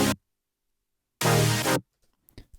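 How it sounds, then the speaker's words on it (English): A bright synth pad sounds a short chord of about half a second, loud and clear between silences, with a faint tail and a few soft ticks afterward. "And we've got this bright pad."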